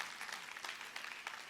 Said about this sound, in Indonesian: Kita kasih tepuk tangan yang paling meriah buat Tuhan.